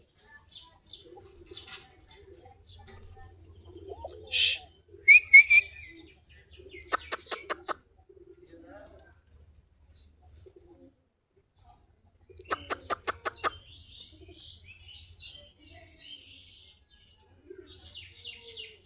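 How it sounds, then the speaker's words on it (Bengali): Native Giribaz pigeons, a flock of about forty pairs, give soft scattered calls and brief chirps, punctuated by sharp bursts of wing flapping, with quiet gaps between the sounds and no talking. "আমাদের এখন চল্লিশ থেকে পাঁচচল্লিশ জোড়া কবুতর আছে সবগুলাই দেশি গিরিবাস কবুতর"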